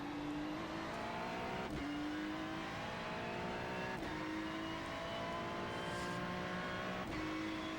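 Ferrari 296 GT3 race car engine in iRacing, a high-revving race engine climbing through gears with sharp upshift breaks at regular intervals, steady and continuous, fairly quiet, no talk.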